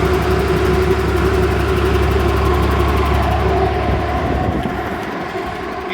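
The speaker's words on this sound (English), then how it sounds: "You can hear the condenser fans running there." Air conditioning condenser fans run on a stock Freightliner MB Eldorado 28-passenger shuttle bus, a steady whirring drone with engine hum beneath, loud and constant before easing slightly near the end.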